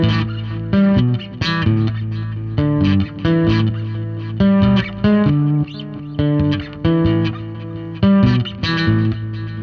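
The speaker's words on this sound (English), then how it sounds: "there's the delay, and there's a digital and the tape delay" Bass guitar played through a TONEX pedal with digital and tape delay effects: loud, evenly paced plucked notes in a repeating riff, each echoing into the next, with no voice over it.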